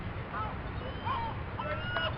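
A herring gull calls at a county cricket ground during a Kent versus Sussex match, its brief wavering cries rising over steady crowd murmur and background chatter.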